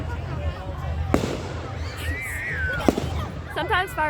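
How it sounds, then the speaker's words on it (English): Fireworks bursting at a show after a Cougars game, with sharp loud cracks and pops over crowd noise, whistling trails and people talking and exclaiming nearby. "Sometimes fireworks scare me."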